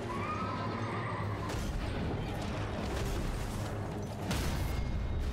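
A horse in the video game Elden Ring gives a loud, drawn-out neigh amid battle noise, followed by hoof clops and mechanical clanks, fairly faint under the game's ambient rumble.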